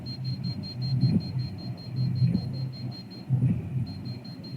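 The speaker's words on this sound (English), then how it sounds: "We just asked it if it would beep again, and it started beeping again." An electronic ghost-hunting device in Portland's White Eagle Saloon gives a few steady high-pitched tones over a low rumbling background, with louder bursts recurring roughly every second.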